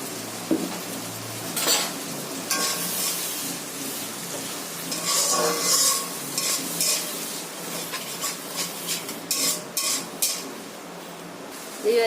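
Grated tomato and spices being stirred in a frying pan for bhetki fish kalia, with repeated scraping and knocking of a spoon against the pan over a light sizzle, close and fairly loud with no talking.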